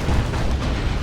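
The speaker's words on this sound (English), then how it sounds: "That's a big boom shot. Oh, it hits terrain." A big artillery round slams into terrain on a Dawn of War 2: Retribution battlefield, a short, loud, dense rumbling burst heard up close and alone.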